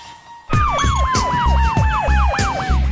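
An ambulance siren wails in a fast, repeating yelp, loud and close, starting abruptly after a brief quiet moment and cycling steadily with no voices over it.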